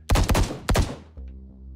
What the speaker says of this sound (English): Did I just hear gunshots? Yes, and they were close.